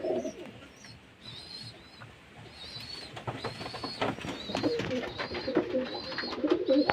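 Domestic pigeons in a loft coo in low, rolling phrases at the start and again toward the end, with higher chirps and small rustles scattered across the steady background.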